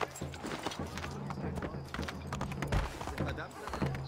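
Galloping horse hooves in the video game Assassin's Creed III, a continuous rapid clatter mixed with busy game ambience, with someone talking over it.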